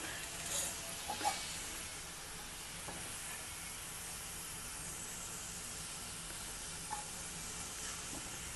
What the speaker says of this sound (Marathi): अशा रीतीने सगळ्या आपण तळून घेऊया।